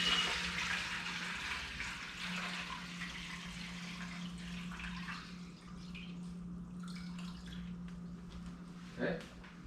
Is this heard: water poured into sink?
yes